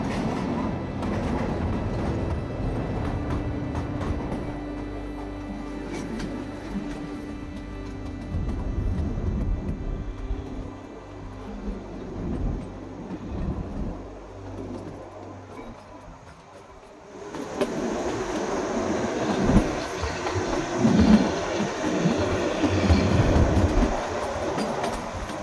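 The Kalka–Shimla toy train rumbles along the mountain railway toward Shimla after its last tunnel, a steady mechanical drone with rhythmic clatter that grows noisier and more open in the second half.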